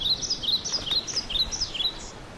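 Small bird chirping in a children's cartoon fairy tale, a run of quick, bright high tweets in a rising and falling pattern, close and clear with no talk.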